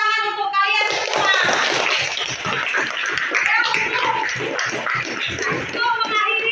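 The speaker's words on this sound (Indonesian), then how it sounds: "Ayo tepuk tangan untuk kalian semua." Children in a classroom clap together in a long, busy burst of rapid overlapping claps, loud and near, with children's voices and an adult's voice mixed in.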